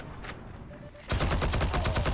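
Heroes and Generals shooter gunfire during a headshot: a short quiet stretch with faint distant shots, then a close, loud run of rapid repeated shots.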